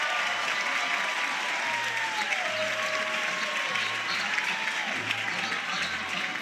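A crowd roars and cheers at a college softball game between #10 South Carolina and #1 Oklahoma. The loud cheering is sustained throughout, with faint low tones underneath.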